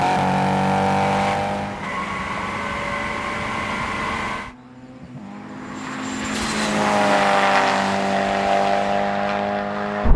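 Toyota 86, Mazda NC Roadster and Honda S2000 in a half-mile drag race: loud, sustained engine roar climbing through the revs, a brief dip as a gear changes, then rising again, heard close and without talk.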